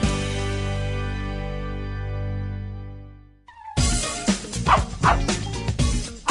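A dog barks and yips several times in a burst following a long fading musical tone, loud and close in a radio advert.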